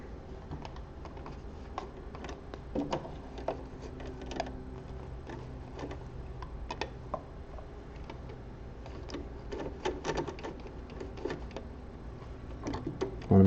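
A sewing machine stitches spandex gloves in a run of quick, clicky mechanical taps over a low motor hum, steady and close with brief pauses.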